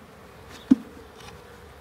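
Honeybees buzz faintly while a nucleus colony is moved from a Langstroth hive into another hive, with a low steady hum and one sharp knock partway through.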